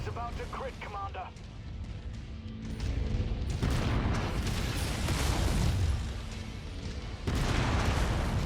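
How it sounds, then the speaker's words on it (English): Booming explosions and weapon fire from a MechWarrior 5 battle between mechs, dense bursts and blasts that swell and cut off abruptly, with a robotic voice heard early on. "Explosion imminent."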